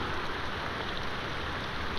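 Steady rain pours down in a night movie scene, a dense, even hiss of drops on the ground filling the whole stretch without pause, with no voices heard.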